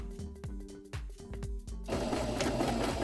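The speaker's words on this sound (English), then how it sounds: "I bend the rectangles in half and sew a decorative stitch." A sewing machine runs a decorative stitch on folded fabric rectangles, first in short rhythmic bursts of clicking and thumping, then in a denser continuous rattling run, close and clear.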